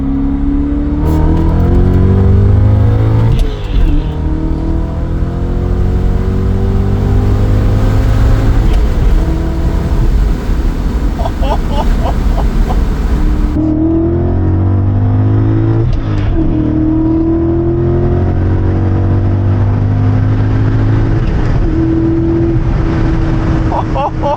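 A BMW E39 M5 engine pulls hard through the manual gears, the pitch sweeping up repeatedly with quick drops between shifts, loud and close from inside the cabin.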